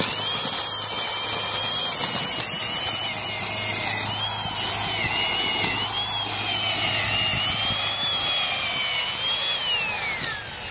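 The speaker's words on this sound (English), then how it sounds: "we have a fairly large angle drill with a low speed 300 RPM drill" A low-speed 300 RPM angle drill whines steadily throughout, drilling into a rotten round fence post set in concrete, a loud close high-pitched motor tone with slight pitch wavering and no speech.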